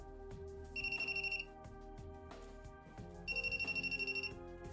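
A voltage tester held near a water bottle on a Keshe magravs plasma generator gives two short bursts of rapid electronic ringing over a steady background hum.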